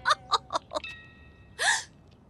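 Cartoon hiccups from Dennis and Gnasher: four quick, sharp hiccups in a steady rhythm, then a pause and a longer, breathy vocal burst, all up close.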